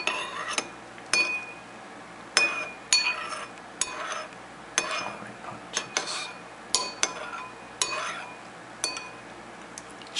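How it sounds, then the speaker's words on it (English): A utensil stirs a homemade old-fashioned root beer mixture in a bowl, with repeated clinks and scrapes against the bowl in an irregular rhythm. The sound is close and fairly quiet, with faint background hum. "so just give it a stir"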